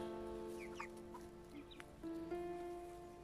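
Broiler chickens about 35 to 40 days old cluck near their coop in a soft, intermittent run of calls over a quiet background, with no voices.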